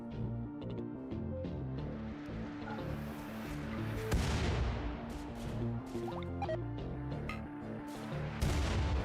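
Gunfire in a RimWorld siege: a busy stream of small shots and distant booms, some scattered cracks and a louder burst near the end, all fairly faint and with no talking.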